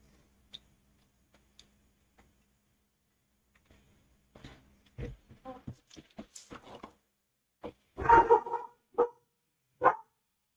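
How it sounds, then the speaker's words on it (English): A dog in a backyard at an observatory barks in scattered bursts, a few sharp yelps rising to a louder cluster near the end, heard close amid quiet moments and occasional nearby talk. "That is a dog. That is a dog, Zena."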